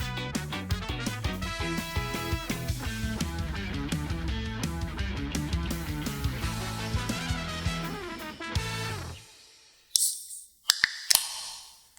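A steady stretch of music cuts off, then a few sharp cracks and a short fizz of a Dr. Pepper Zero Sugar can being popped open close by.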